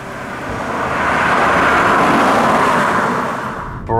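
A 2006 Audi A6 Avant with 215,000 miles cruising at about 40 mph, a steady broad engine and road roar from inside the cabin swelling and easing, with a brief voice at the end.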